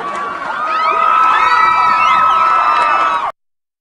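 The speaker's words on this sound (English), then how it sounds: "Everybody in the audience cheer really loudly if you want Pennywise to eat this." A studio audience cheers and whoops loudly for several seconds, a dense wall of crowd noise with children's shouts mixed in, ending abruptly.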